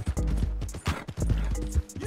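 Steady clip-clop of a horse's hooves in a Wild West video game, a regular galloping rhythm of sharp, close hoofbeats throughout with no talking.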